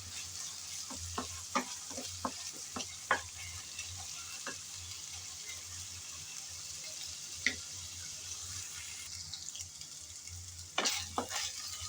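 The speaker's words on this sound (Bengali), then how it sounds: "এখন আদা রসুন পেঁয়াজের সাথে আবারও ভেজে নেব কিছুক্ষণ, যাতে কাঁচা গন্ধটা চলে যায়।" Ginger, garlic and onion frying in a pan of oil previously used for prawns, a continuous close sizzle punctuated by scattered spoon-and-pan stirring clicks, with a louder scraping burst near the end.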